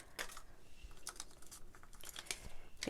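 Scissors snip through paper leaves for a craft, a quick run of short crisp cuts and light rustling, close and soft, with no one talking.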